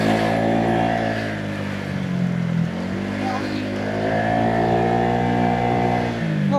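A remapped Honda Giorno 125 scooter engine revs up close by, its buzzing drone climbing in pitch, dipping briefly, then rising again in two pulls before easing off at the end.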